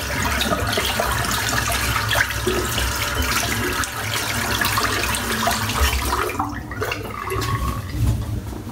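Water runs steadily from a bathroom sink tap after a shave, a loud, continuous splashing rush that carries on throughout with no talking.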